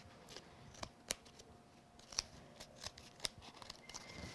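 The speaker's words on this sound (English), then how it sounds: "Be sure to keep your scissors at an angle so you don't cut into your frame" Scissors trim paper around a die-cut card frame in a series of sharp, separate snips spaced irregularly over quiet room tone, with light paper rustle in between.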